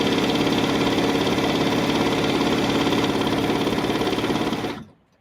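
A sewing machine runs a long, steady quilt seam on jelly roll strips, its rapid, even motor-and-needle drone continuing loud and unbroken for about five seconds before stopping abruptly.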